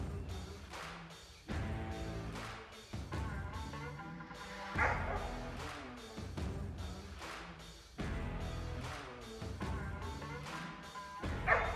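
Mountain Cur hunting dog on a squirrel hunt, baying in repeated bursts of barks and yips heard at a distance through the woods, fairly faint, with no talking.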